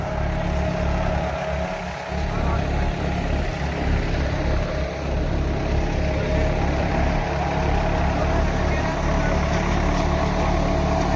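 A jugaad-built thresher rotor runs steadily with a continuous low engine drone and dense mechanical rumble, loud and close, holding an even level throughout with no voices.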